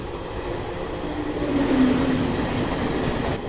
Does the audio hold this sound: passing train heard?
yes